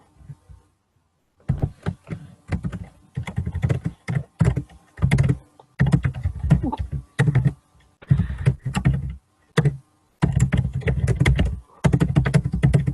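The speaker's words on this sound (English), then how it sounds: "We can hear you typing, Pradeep." Computer keyboard typing picked up on an online call, bursts of close, clattering keystrokes in irregular runs with short pauses, loud and dry, with no talk over it.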